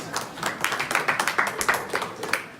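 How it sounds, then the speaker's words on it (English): Audience applause at an agile-methods talk, a steady patter of many hands clapping in a room, moderately loud, with no voices over it. "give yourselves a round of applause, please"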